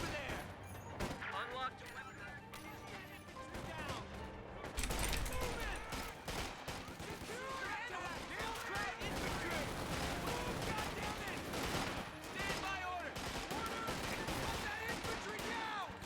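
Infantry volley fire in Company of Heroes 2: dense, continuous crackling rifle and machine-gun shots with heavier blasts, sustained battle noise filling the whole stretch while a player talks over it.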